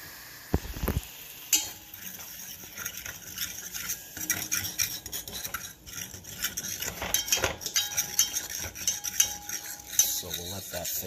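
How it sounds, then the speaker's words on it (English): A spoon scrapes and stirs across the bottom of a pan as a milk sauce thickens on the stove, a continuous close scratching and clinking with faint sizzling underneath. "As I go, I'm scraping the bottom so it doesn't burn."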